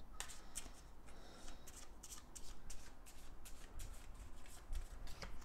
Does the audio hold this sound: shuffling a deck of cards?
yes